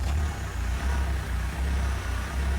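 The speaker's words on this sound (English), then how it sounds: "While the engine was idling," An engine idles steadily during a hydraulic pump test, a loud, close low rumble with a regular pulsing throb and no voices.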